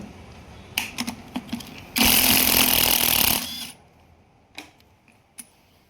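Gearbox bolts being loosened on a Maruti Brezza: scattered metallic clicks and taps, then a loud continuous power-tool whir lasting about a second and a half, followed by a few more sharp knocks.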